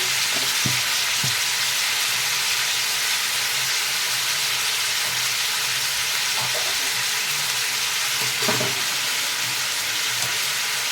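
Spices are stirred into a frying tomato prawn curry, giving constant loud sizzling oil with a few scraping stir strokes from a spoon against the pan.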